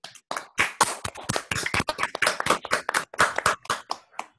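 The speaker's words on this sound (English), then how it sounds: "we have to clap for him" At a physics seminar, a small audience gives a round of distinct, close hand claps, sharp and irregular, lasting about four seconds before thinning out.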